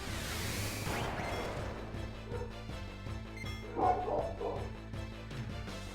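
Dogs barking in the background of Final Fantasy IX gameplay, repeated yips and barks running non-stop under a busy game soundtrack.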